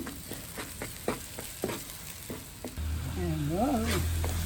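Onion sambol frying in oil in a pan while being stirred, soft sizzling broken by a series of sharp spoon taps against the pan, with a tonal whine and hum joining in the latter half; no one speaks.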